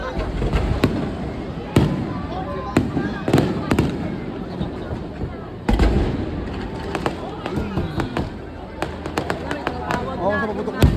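Fireworks and firecrackers bursting at a Chinese New Year celebration on a bridge in Binondo, with repeated sharp cracks and booms at irregular intervals over a steady crowd murmur, and voices talking nearby.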